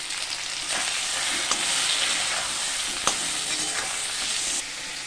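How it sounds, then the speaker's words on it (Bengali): Pointed gourd pieces seasoned with salt and turmeric frying in oil in a pan, a loud steady sizzle with a few sharp crackles and pops, cutting off abruptly near the end. "পটলটা ভাজা হবে"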